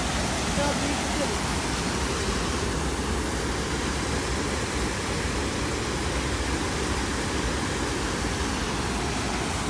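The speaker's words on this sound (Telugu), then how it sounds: "బ్యాక్ సైడ్ చూస్తున్నారు కదా, జలపాతం, వాటర్ ఫాల్," A waterfall roars as a dense, continuous rush of water close by, loud and unbroken throughout.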